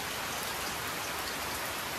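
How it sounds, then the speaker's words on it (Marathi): Steady rain pours down in a dense, even hiss, constant and close with no other sounds, falling in a Konkan village. "मस्तपैकी पाऊस चालू आहे बघा."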